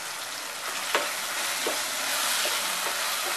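Onion and tomato cooking in a pan for a spicy prawn curry, a steady hissing sizzle with a few soft stirring taps, close and without talk.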